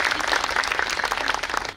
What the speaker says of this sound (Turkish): Öncelikle alkışlayalım Sayın Başkanımızı.